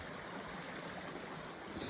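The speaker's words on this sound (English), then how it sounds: "Charming little creek." A small creek flows in a forest after a night of rain, giving a soft, steady rush and trickle of water with no voices.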